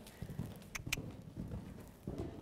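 Horse hooves clip-clop on the ground of a jumping arena at a show-jumping clinic, a run of soft, uneven thuds with a couple of sharp clicks, fairly quiet and with no talk.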